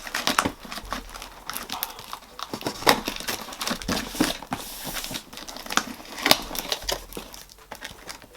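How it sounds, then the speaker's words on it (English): A fragile cardboard parcel is cut and torn open with scissors, giving a close series of crinkling, scraping and tearing sounds in irregular bursts, with packaging rustling between them. "So let's get this open. Fragile, handle with care, and I've just gone straight in with some scissors"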